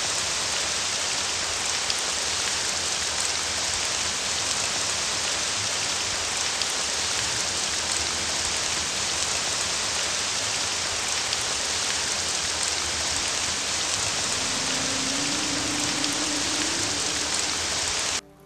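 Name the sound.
rain falling on pool of water, PlayStation 3 commercial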